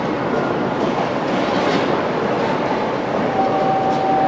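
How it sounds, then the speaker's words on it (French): A Tokyo subway train on the Rinkai line rumbles along near Oimachi station, a steady loud roar of wheels and carriage noise filling the car, with a faint high tone near the end. "on est dans le métro"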